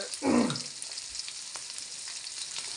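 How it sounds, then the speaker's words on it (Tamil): Onions dropping into hot oil in a pan for squid curry, a brief loud burst of frying followed by a steady faint sizzle. "வெங்காயம் வெட்டி வெட்டயத்துலேயே வெங்காயத்தை போடுறேன் சரியா வெங்காயத்தை போட்டு"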